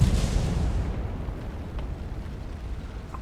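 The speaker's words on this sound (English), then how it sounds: "So we take the shot, and sadly it is not pinned." A single muffled cannon blast from a tank in a video game, a deep low boom at the start that decays into a rumbling tail over a few seconds.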